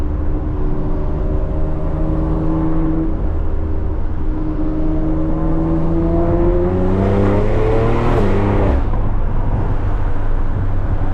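Loud engine of a catless, tuned BMW X3 M accelerating steadily in high gear, pitch rising over several seconds before easing off, close and continuous.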